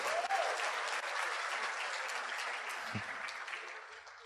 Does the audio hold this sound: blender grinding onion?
no